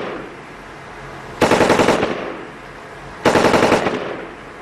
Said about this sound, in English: Using 2 .240 machine guns and a .50 caliber, these soldiers lit up the night with tracer rounds